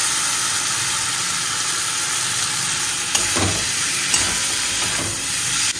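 Ginger and Kashmiri chili powder frying in a pan, with a steady loud hiss and sizzle running throughout and a couple of brief stirring scrapes.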